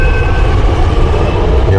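A metro train at Shivajinagar metro station in Pune gives a loud, close, continuous rumble and whine, filling the whole short moment without any voices.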